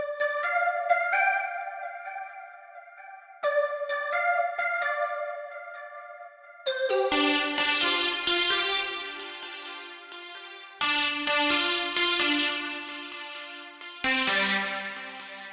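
A synthesizer lead plays a bright melody in short phrases separated by brief gaps, the later phrases fuller and louder with a rich, buzzy timbre.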